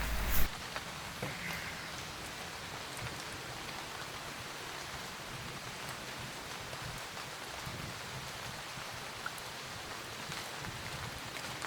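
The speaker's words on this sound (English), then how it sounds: "So it's raining nicely now." Steady rain falls on a garden, an even, dense hiss of drops that holds at a constant level throughout with no talk over it.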